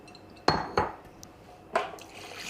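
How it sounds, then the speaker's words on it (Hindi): Raw liver dropped and shaken into a sieve, plastic or steel, giving a few sharp wet clatters and clinks, close by, with quiet pauses in between. "छलनी में हम ये कलेजी डालेंगे इस तरह"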